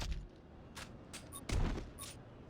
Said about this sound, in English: It's a bomb, I just threw it.